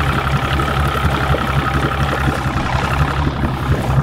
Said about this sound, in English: Boat engine has started.